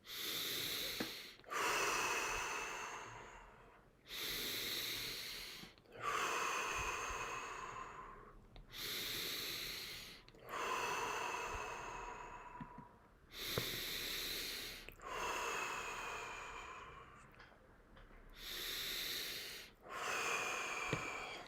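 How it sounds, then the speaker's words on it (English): Slow, deep breaths during a guided breathing session, about nine long inhale-exhale cycles drawn in and released at an even pace, close and clear with no voice over them. "Start taking deep breath. A little bit longer this time."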